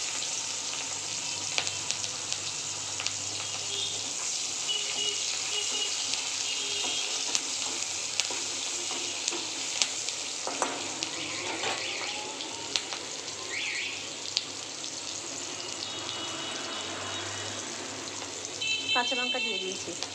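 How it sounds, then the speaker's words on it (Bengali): Onions and green chillies frying in hot oil after fish, a steady close sizzle running through the whole stretch with occasional stirring clatter. "এবার আমি তেলের মধ্যে দিয়ে দেবো কেটে রাখা পেঁয়াজ আর কাঁচা লঙ্কা"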